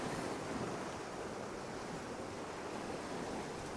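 Sea waves lap steadily against the harbour sea wall at Hunstanton, West Norfolk, at high tide, a continuous soft wash of surf that holds an even level throughout with no talk.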